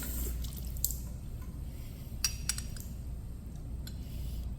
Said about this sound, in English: And then going to fill it with water a couple times.